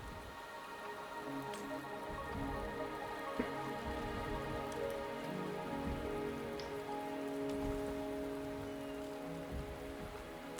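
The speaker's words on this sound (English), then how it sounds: "The rain is subsiding" Steady rain falls in the video game Wuthering Waves, a dense, even patter of drops on surfaces that continues without a break at a constant level, with no voices.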